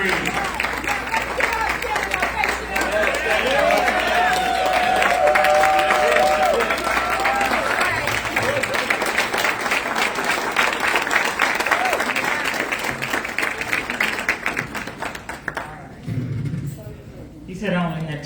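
Loud applause with cheering from a large audience at the Black Women's Expo Phenomenal Awards 2025, sustained steadily for about fifteen seconds before tapering off, with a voice briefly speaking near the end.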